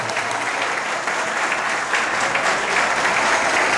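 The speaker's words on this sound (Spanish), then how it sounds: "¡Fuerte el aplauso!" Audience applause after a poem recital about youth, steady and dense clapping from a crowd filling the whole stretch without pause.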